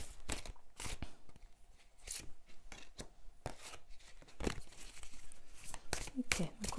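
Cards from an oracle deck snap and riffle as they are shuffled and one is pulled out, giving sharp papery bursts and crinkles in an irregular rhythm, close by, under intermittent speech.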